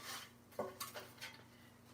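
A metal baking pan for oatmeal bread is taken out, a few soft clanks and scrapes of metal against metal, close and fairly quiet.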